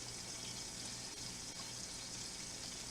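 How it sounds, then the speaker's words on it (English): Filtered water pours steadily into a round two-quart microwave dish for couscous, a continuous close splashing fill with no talking. "So I'm going to add 2 cups of filtered water to this microwave dish."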